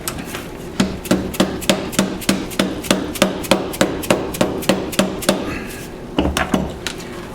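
Sharp, evenly spaced hammer blows set rivets into an AK-47 triple holster rig, about three strikes per second, close and loud, with a brief pause near the end before a few more quick hits.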